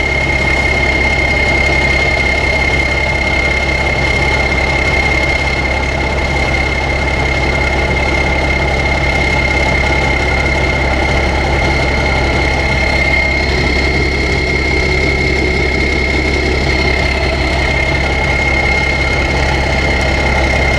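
A Deutz-Allis 9190 4WD tractor with an air-cooled diesel engine idles at a dirt pit, a loud, steady low rumble with a constant whine on top, unbroken for about twenty seconds and heard alone.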